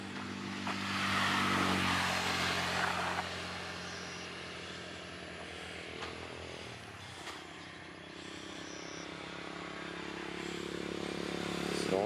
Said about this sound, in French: Je vous ai pas montré la moto, je vais vous la montrer maintenant là